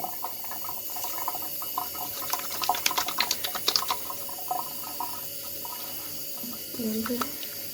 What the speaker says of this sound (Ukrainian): Одразу треба змити руки.